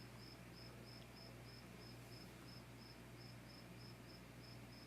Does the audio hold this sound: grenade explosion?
no